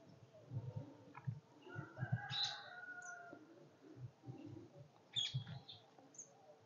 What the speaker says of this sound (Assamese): শুনিছেনে আপোনালোকে? এই চৰাই চিৰিকটিবিলাকৰ মাতবিলাক